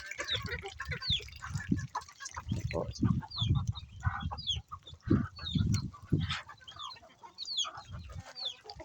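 Chickens and small chicks cluck and peep at feeding time in their pen, fed rice bran and rice, with a busy overlapping chorus of nearby clucks and high chirps and some human voice mixed in.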